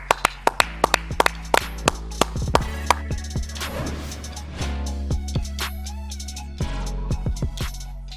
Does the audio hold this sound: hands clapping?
yes